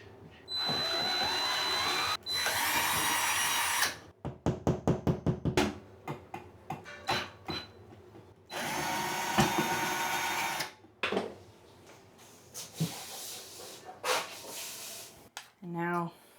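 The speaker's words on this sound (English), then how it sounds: "I'm gonna go grab the screwdriver so that I can install that" A cordless power screwdriver driving screws to install a fixture at home, whirring in long steady runs and short stuttering bursts, close by, with a person talking in between.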